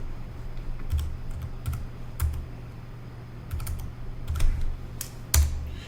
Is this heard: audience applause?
no